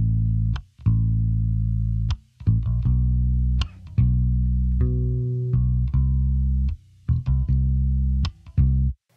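A bass guitar run through an SSL 4000E console-emulation plugin plays a slow line of sustained, warm low notes separated by brief gaps, with sharp plucked attacks, alone without voices.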